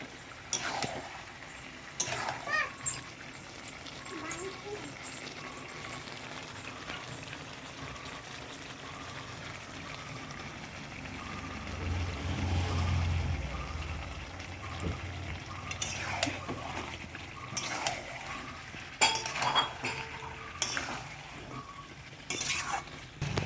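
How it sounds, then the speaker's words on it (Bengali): Meat sizzles as it is stir-fried for a spicy red curry in a pan, with a steady frying hiss under repeated scrapes and clinks of a metal spoon stirring against the pan, close and continuous. "মাংসটা আমার কষা হচ্ছে, এখনো হবে"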